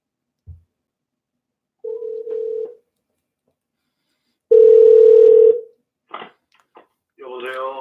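A call is placed over a telephone line: a short click, then two steady tone bursts of ringing separated by silence, loud and close. Brief talk follows at the end.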